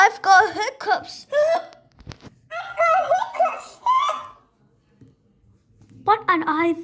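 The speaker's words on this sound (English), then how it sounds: "I've got hiccups." A voice gives repeated hiccups mixed with giggly, voiced bursts, near and loud, in several clusters with short pauses between them.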